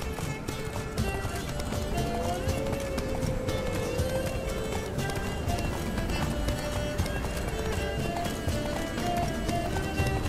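Roach the horse gallops in The Witcher 3, with steady rapid hoofbeats and an occasional whinny under game music and a loud, busy background.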